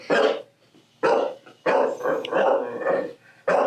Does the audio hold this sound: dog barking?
yes